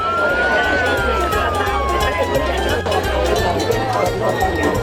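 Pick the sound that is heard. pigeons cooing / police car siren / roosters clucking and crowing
police car siren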